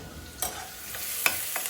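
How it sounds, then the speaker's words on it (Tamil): Onion, ginger and garlic sauté in a hot pan, giving a soft, steady sizzle broken by a few sharp scrapes and clinks of a spoon stirring against the metal, close and clear with no voices. "இப்போ நம்ம வெங்காயம் இது போடலாம், இஞ்சி பூண்டு போட்டுடலாம். போட்டுட்டு கொஞ்சம் நேரம் வதக்கி கொடுத்துடலாம்."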